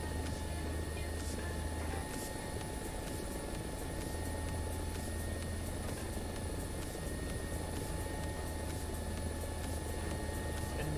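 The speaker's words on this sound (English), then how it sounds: "I apologize if the chopper is really loud." A helicopter in the War Thunder combat game drones with a steady, loud rotor and engine roar that carries without a break through the whole stretch, with no talking over it.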